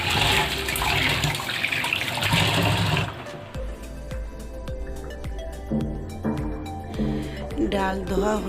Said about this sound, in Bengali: ডাল ধোয়া হয়ে গিয়েছে,